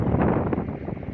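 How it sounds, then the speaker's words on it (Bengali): Strong wind blows across rice fields, heard as a loud, continuous buffeting rush and rumble against the microphone with no voices. "এত পরিমাণ বাতাস আজকে।"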